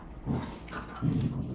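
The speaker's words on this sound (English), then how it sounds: "I apologize for the dogs playing in the background." Dogs scuffle and grumble playfully in the background, with low growly bursts and a few soft whines at a moderate distance.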